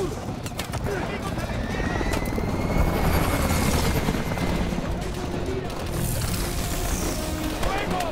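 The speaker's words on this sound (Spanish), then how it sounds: "¡Helicópteros de Atlas! ¡Están descendiendo con cuerdas!" Atlas helicopters in Call of Duty Advanced Warfare, a loud, close rotor thrum and whine churning throughout, mixed with bursts of gunfire, while a voice shouts over the din.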